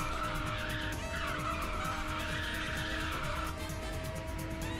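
Race car drifting in Ridge Racer 6, with a steady loud engine drone and sustained tire skid noise running continuously throughout, no voices.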